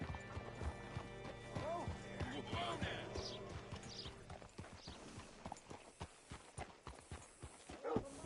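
Hooves clip-clop in a steady, rhythmic series in a video game, a horse walking then moving more briskly, fairly close, under scattered voices and background game music.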